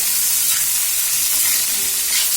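Green chillies with onion sautéing in a hot pan for a Kerala chicken thoran, a dense, loud, continuous sizzle close up, no voices.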